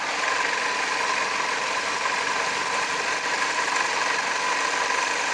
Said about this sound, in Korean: 엔진룸 열어봤고 엔진 소리 한번 들어보도록 하겠습니다